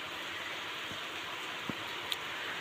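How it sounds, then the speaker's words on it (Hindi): Early-morning rain falls steadily in a village under dark clouds, a soft, even hiss with a few faint drips and taps standing out. "ये देखिए अभी मैं उठी हूँ और बारिश लगी हुई है।"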